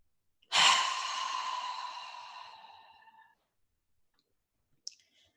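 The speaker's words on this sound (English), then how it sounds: "And again, in your nose. And exhale out." One deep breath is drawn in through the nose and then slowly exhaled, a close, soft airy whoosh that fades out over a few seconds, followed by a small click.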